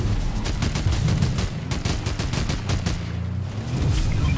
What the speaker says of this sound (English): Kier, use your fucking SMG or something.